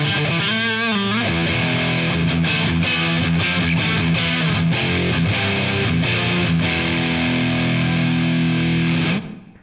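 A Dean Dave Mustaine Holy Grail electric guitar plays through high-gain overdrive on its bridge pickup, with loud, distorted metal riffs and chugging chords ringing out before cutting off abruptly.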